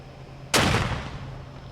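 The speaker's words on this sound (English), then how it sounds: "Cadets fired the cannon at the exact times of the attacks and collapse of the Twin Towers" A ceremonial cannon fired by cadets at a September 11 Patriot Day remembrance at a stadium booms once, sharp and loud, then rolls away in a long fading rumble over a low steady hum.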